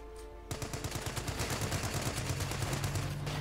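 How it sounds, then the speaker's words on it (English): Rapid gunfire erupts in a Company of Heroes 2 one-versus-one battle, with loud, dense bursts of rattling shots. The firing keeps a steady, machine-gun-like rhythm over a low rumble of battle. "Lots of explosive rounds flying in."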